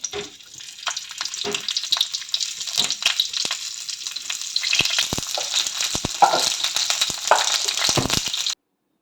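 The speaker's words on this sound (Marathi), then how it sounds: "आता फक्त याला तेलामध्ये चांगल्या प्रकारे फ्राय करून घ्यायचं" Stuffed green chillies frying in oil, a loud dense crackling sizzle with occasional stirring knocks, close and continuous until it cuts off abruptly near the end, with no talking.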